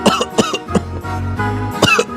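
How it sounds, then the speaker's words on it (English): A man coughs several times in quick bursts, close and loud, with short pauses and a rough, throaty rasp between the coughs. "I'll just cough my way out of here"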